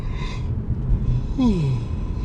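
A person yawns close to the microphone, a breathy drawn-out intake that turns into a falling, groaning vocal tone lasting under a second.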